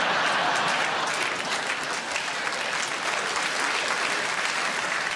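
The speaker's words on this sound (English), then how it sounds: "that's the applause of recognition" Steady, dense applause from a large theatre audience at the Royal Variety Performance, loud and sustained throughout with no pauses.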